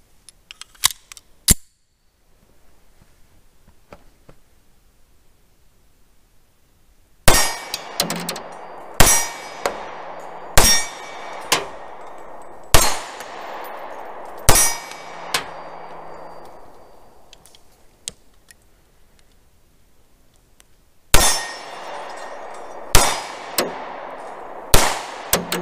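Pistol shots ringing off a small steel gong target, fired one-handed with a Rock Island Armory BBR 3.10: a few early cracks, then two bursts of sharp reports with bright metallic clangs decaying between them, close and loud.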